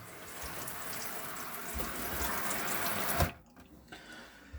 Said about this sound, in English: You turn that on and the water system will start filling, which as you can see it is doing.